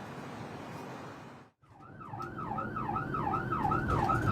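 Red Cross ambulance siren wailing in a rising and falling pattern on a call to a shooting in Tijuana, rapidly cycling and growing slightly louder over traffic rumble after a brief drop-out.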